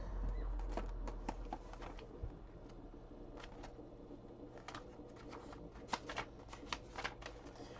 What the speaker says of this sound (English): Last shuffle of this deck.